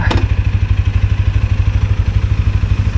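A TVS Apache RTR 160 4V motorcycle on a test drive, its single-cylinder engine throbbing loud and close in a fast, steady pulsing rhythm, with a brief clatter at the start.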